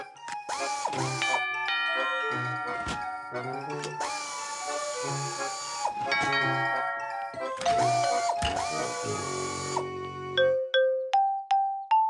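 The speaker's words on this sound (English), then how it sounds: "We could add a door chime to everything that opens, each one chiming a different chime." Door chimes ring in a cartoon as things open, each with a different chime: a busy run of bright ding-dong tones and jingling melodies overlapping for several seconds, then a few clear single dings ringing out alone at the end.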